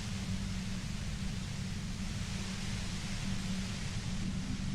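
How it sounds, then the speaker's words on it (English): Steady, overwhelming white noise from a compressor in the video game Disco Elysium, a dense continuous hiss with a heavy low hum, constant in loudness and with no voices over it. "The white noise becomes even more overwhelming closer to the compressor."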